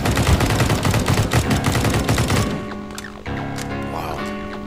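Rapid automatic gunfire from a gun in Counter-Strike: Global Offensive rattles loudly for a couple of seconds, then breaks off into quieter in-game clatter and tonal effects.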